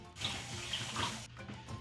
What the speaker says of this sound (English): So I'm going to run this through cold water first.